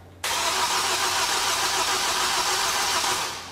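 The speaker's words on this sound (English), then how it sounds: "I'm actually winding the key right now." A car engine, on a Kia Cerato or Chrysler 300 under diagnosis, catches abruptly after a brief quiet moment with the accelerator pressed, then runs loud and steady as a continuous roar, easing slightly at the end.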